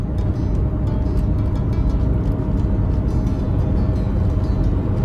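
Camper van on the move on a sunny day, a steady loud mix of low engine drone and road rumble with tire noise running unbroken from start to finish.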